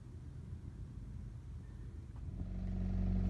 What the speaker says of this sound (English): This could be my last joyride in my little old car.